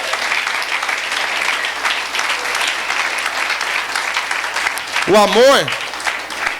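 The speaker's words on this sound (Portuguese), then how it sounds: "Deus merece uma salva de palmas" Audience at a church winter camp breaks into sustained applause, steady clapping from a crowd heard under a man preaching in Portuguese, with a short whoop near the end.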